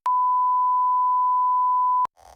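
A steady 500 Hz sine tone plays through a speaker driven by a home-built class-D amplifier, loud and unbroken for about two seconds, then cuts off into faint noise.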